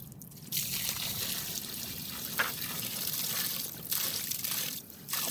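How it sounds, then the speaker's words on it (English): Liquid poured out of a heavy container during a decantation, leaving the settled solids behind: a steady, faint trickle and dribble of water running continuously for several seconds. "so I can pour this one out."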